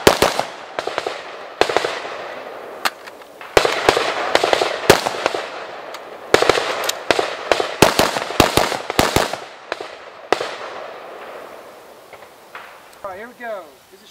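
Sharp, loud gunshots from a rifle and pistol crack out in irregular bursts and single shots during a timed shooting drill on a range, with brief gaps between strings and a voice speaking toward the end.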